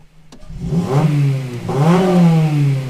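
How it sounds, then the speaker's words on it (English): A 2007 Honda Civic Si with a muffler delete revs twice in quick succession, each rev rising then falling, loud and close, with a short click just before the first. "if you're standing behind the car and someone revs with a muffler delete, it's just like deep"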